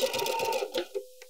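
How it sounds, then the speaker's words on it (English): A sewing machine runs a zigzag stitch along a fabric edge while making a beanie from a sweater, a short close burst of rapid mechanical stitching that stops abruptly, followed by a soft click. "Now we're going to go back and zigzag this edge together."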